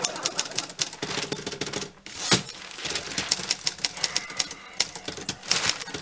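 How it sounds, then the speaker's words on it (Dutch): Typewriter keys clack in quick, uneven bursts with a brief pause midway, steady and fairly close, with no voices over the typing in a domestic room. "Zeg, kun jij op uw kamer niet gaan typen?"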